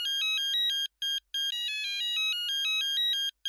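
A phone ringtone rings for an incoming call in a sitcom, a bright electronic melody of repeating beeping notes in short bursts with brief gaps, clear and alone.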